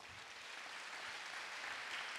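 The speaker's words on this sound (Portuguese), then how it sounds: "Quem pode dar uma salva de palmas para o Senhor?" A church congregation claps for the Lord during an evangelical sermon; faint, distant, steady applause with a hissy, washed-out quality throughout.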